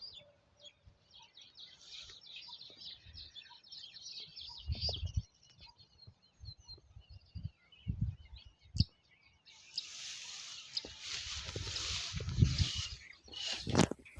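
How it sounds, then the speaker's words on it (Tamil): Sparrows chirp in a farm field, scattered small calls near and far over outdoor wind and rustling, with brief louder bursts of wind noise. "குருவி சத்தம் எப்படி கேட்குது பாருங்கள்."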